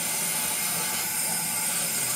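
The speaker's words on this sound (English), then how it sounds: "Alright, let's try to steam her up." A handheld steamer hisses steadily while steaming a flat brim hat with a stiffener. The hiss is a continuous, even rush of noise from start to finish.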